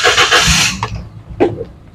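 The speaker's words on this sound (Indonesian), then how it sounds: "Dan ini untuk suara mesinnya," A used car's engine runs steadily with a low rumble and some higher whirring, close by, with a few brief knocks or clicks over it.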